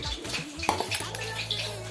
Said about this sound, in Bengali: এটা আমার লোহার কড়াই।